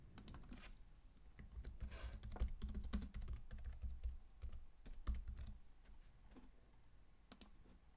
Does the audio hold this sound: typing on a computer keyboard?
yes